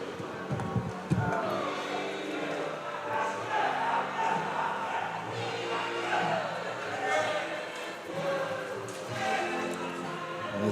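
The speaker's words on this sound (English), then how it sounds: "As the Donkeys do their final cheer of the year." A hockey team, the Swamp Donkeys, gives a final group cheer after a league finals game, a loud crowd of voices shouting together steadily throughout, with a sharp burst near the start.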